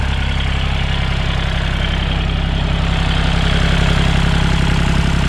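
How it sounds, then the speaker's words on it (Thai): A Kubota L3608DT tractor's diesel engine idles close by with a steady, even, low throb that runs without a break and without any talk over it. "ดูเครื่องยนต์ก่อนนะครับ"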